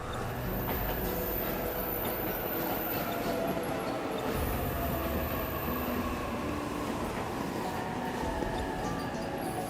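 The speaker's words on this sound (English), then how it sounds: "There's the train." A train pulls into a station in the video game 13 Sentinels: Aegis Rim, with a steady, rumbling rail clatter and faint squeals running throughout at moderate loudness.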